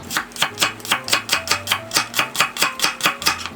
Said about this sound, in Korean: 대파 반대는 크지 않게 그냥 어슷어슷하게 네, 썰어주세요.